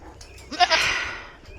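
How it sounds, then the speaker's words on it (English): A goat bleats once, close and loud, a wavering nasal cry rising and trailing off, with faint shorter bleats from other goats around it before feeding on a farm. "But I am going to feed these goats real fast and feed Tucker and check on Pebbles to see"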